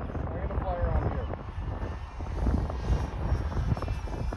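A Durafly Slow Poke 4S RC airplane buzzes in flight outdoors on a breezy day, a steady motor whine mixed with wind noise as people talk nearby.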